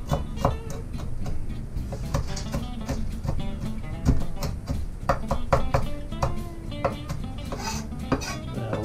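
Knife repeatedly striking a cutting board while chopping cooked bacon into fine crumbles, a brisk run of close, sharp taps with some clatter, no talking.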